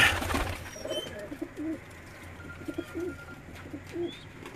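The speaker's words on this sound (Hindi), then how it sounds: "ये मैं अब उस ब्रीडर खुडे में दाखिल हुआ हूँ जहाँ राजा उस्ताद फैसल ने इन कबूतरों को रखा हुआ है।" Soft pigeon coos repeat inside a breeding loft over a low background hum, with a few faint chirps and rustles nearby.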